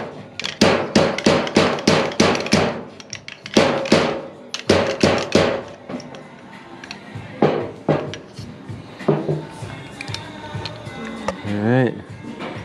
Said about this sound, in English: You're just gonna pound on this until you hear like a metal on metal noise.